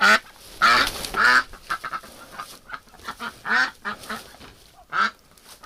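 Injured duck quacking in a series of loud, harsh calls, some paired and some single, spaced irregularly over a few seconds, close by with no talk over them.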